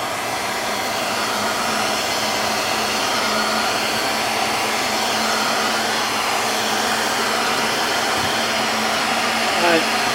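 A heat gun warms filler on the wheel well bodywork of a Ford F100 truck, making a steady, loud, close whooshing blower hum that runs without a break.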